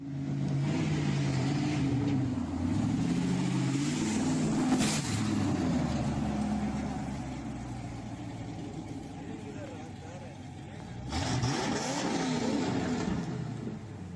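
A car engine roars and revs, rising and falling in pitch with a loud burst midway and another surge near the end, heard alone.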